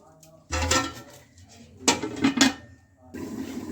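A metal lid clatters onto a pot of potato vadi curry, several close clanks and scrapes of metal on metal with short gaps between, loud and sharp in a quiet kitchen.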